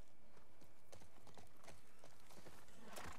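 Horse hooves clopping steadily in The Last of Us Part II, a run of crisp, close hoof strikes on hard ground in an even walking rhythm, with no talk over them.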